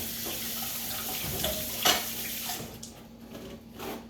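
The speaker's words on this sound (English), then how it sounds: "So I'm gonna wash my hands here." A kitchen tap runs steadily while hands are washed under it, a soft continuous broadband hiss with a few brief splashes and clinks, fading somewhat toward the end, with no talking.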